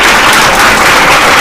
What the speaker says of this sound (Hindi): एक बार इनके लिए जोरदार ताली है ना